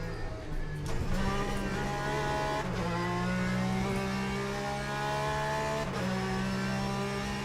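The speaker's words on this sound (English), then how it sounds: "Actually, this car sounds alright internally." In-car engine drone from a racing video game, a sustained harmonic hum that shifts pitch with abrupt gear changes roughly every couple of seconds, steady and moderately quiet with no talking.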